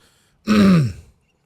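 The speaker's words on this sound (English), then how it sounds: "What do you think is gonna happen when you try to clear your throat?" A single rough throat clearing lands right up against the microphone, loud and close, with quiet before and after.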